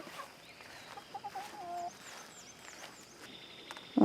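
Backyard chickens cluck softly and intermittently in short, scattered calls, with birds chirping in the background and a brief louder sound at the end.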